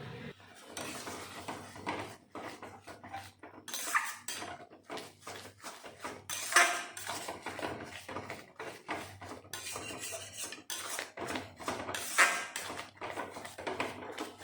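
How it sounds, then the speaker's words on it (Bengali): A spatula scrapes and clatters against a pot of cooking fruit jam, an irregular run of close metallic knocks and scrapes with short pauses between strokes, heard alone with no talk. "একভাবে খুন্তি দিয়ে ভালো করে নাড়তে হবে।"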